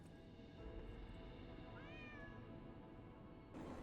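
A small kitty meows softly while being hugged in the video game Lies of P, a single rising mew over steady game music and ambience.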